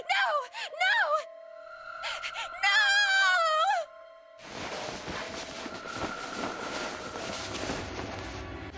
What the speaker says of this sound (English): It was an eerie scream, full of insanity and not entirely human.